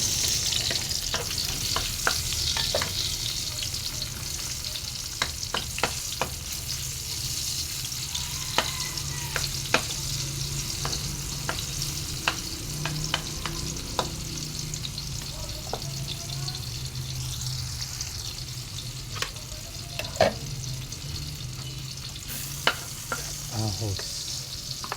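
Bitter gourd and tomato sizzle as they sauté in hot oil, a steady frying hiss broken by frequent clinks and scrapes of a utensil stirring the pan.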